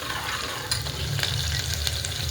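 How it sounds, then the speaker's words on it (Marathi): Chopped onion frying in oil inside a pressure cooker crackles steadily while a spoon turns it over, giving soft scraping strokes and a couple of light knocks under the constant sizzle, no voices. "कांदा असा खालीवर करून घेऊया"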